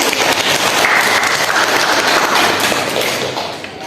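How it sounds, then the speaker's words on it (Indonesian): Classroom applause for students after a math presentation on arithmetic series, a close, loud burst of many hands clapping that tapers off at the end. "Oke, tepuk tangan buat mereka."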